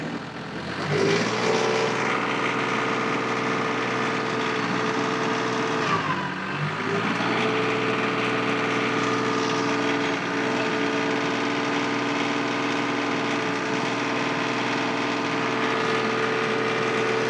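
A tractor's engine revs up to drive a 60-inch IronCraft HD reverse tiller, rising briefly near the start and then holding a steady, loud high-RPM drone with no talk.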